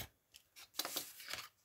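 Scissors cut close by, making a few quiet, crisp snips in quick succession with short pauses between them.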